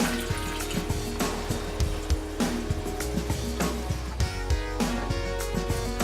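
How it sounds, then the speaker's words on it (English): Water poured into the top reservoir of a KRUPS EC3130 coffee maker, a trickling splashing fill with intermittent clunks and taps of plastic handling, close and moderately quiet. "So we'll go ahead and pour some water at the top."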